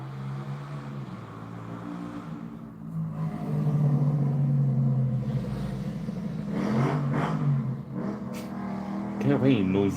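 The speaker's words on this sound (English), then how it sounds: "Get away, noisy small motorcycles." Small motorbike engines drone and rev as they pass nearby, a steady buzzing rumble that swells and fades, with a voice speaking over it.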